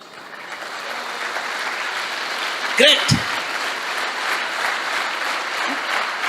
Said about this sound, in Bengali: তাদের জন্য একটা জোরে হাততালি হোক